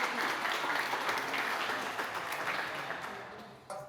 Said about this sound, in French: On les applaudit de la force, merci.